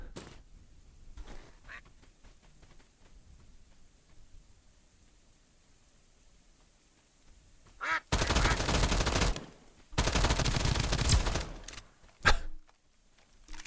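Two loud, dense bursts of automatic gunfire erupt in the video game Escape From Duckov, each lasting a second or more, with a short sharp shot after them, all following a long quiet stretch of faint game ambience.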